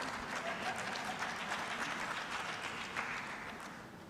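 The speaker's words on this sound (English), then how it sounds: "clap properly" Steady crowd applause fills a conference hall at a women's conference in Lusaka, Zambia, a dense even wash of many hands clapping at once, holding level throughout and easing off only slightly at the end.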